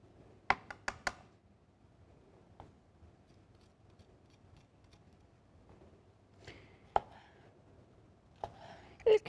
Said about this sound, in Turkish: önce uzun şerit şerit kesip ondan sonra da ufak ufak doğrayacağım